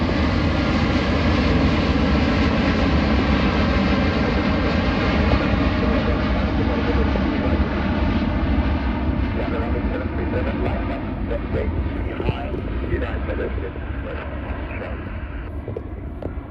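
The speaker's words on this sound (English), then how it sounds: "Here taking off now is Qatar Airways." A Qatar Airways Boeing 787 takes off from Manchester Airport at sunset, its jet engines producing a loud, steady, broadband roar that slowly eases as the aircraft climbs away.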